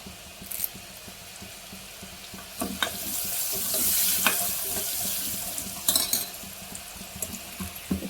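Curry leaves hit hot oil in a frying pan and are stirred, making a close, hissing sizzle that swells into a loud crackling burst, with utensil scrapes and taps and no talk.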